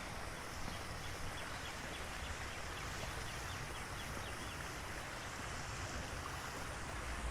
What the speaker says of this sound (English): in the distance, I hear water, and I actually see the fountain is running